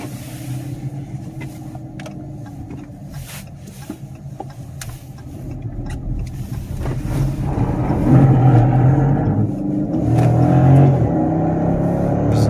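A 2018 Dodge Charger Pursuit AWD V8 police-package car drives down a road, giving a steady engine and tyre rumble that swells louder partway through, with no talking.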